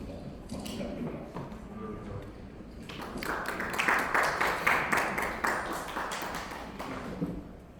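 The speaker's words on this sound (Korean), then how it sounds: "박수 부탁드립니다" Audience applause in a conference hall at an Open Compute Project Korea tech day, greeting a Red Hat AI speaker; dense clapping swells from about three seconds and holds steady before tapering, following quieter room noise.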